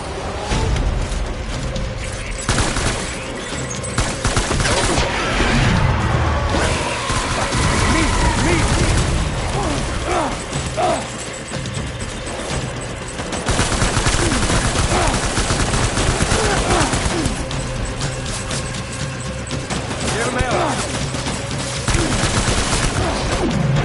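Bursts of gunfire and mechanical clatter fill a World War 1 Metal Gear video game battle, dense and loud throughout, with voices shouting over the shooting.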